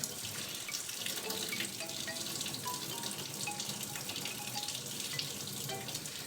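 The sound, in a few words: warm tap water running to soak an egg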